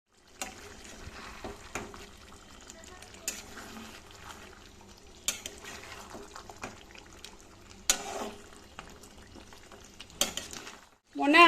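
Marinated meat with fried potatoes is stirred in a pan as it cooks down, with soft scraping and stirring clatter, a few sharper knocks and quiet sizzle under occasional talk.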